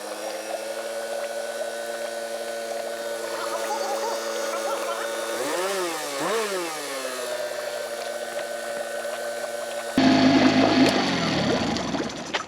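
A steady Tohatsu outboard motor, running in a bucket of water, idles with a constant hum and a brief revving rise midway, then a louder splashing, gurgling burst near the end.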